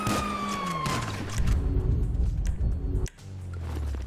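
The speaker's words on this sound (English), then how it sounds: "Sirens!" Police sirens wail in Grand Theft Auto V, a loud descending siren tone giving way to rumbling engine and street noise, then a brief dropout before another siren tone resumes.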